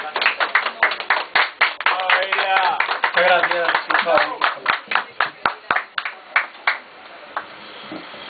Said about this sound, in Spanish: quiero que lo recibamos con un nutrido aplauso, porque se lo merece muy especialmente.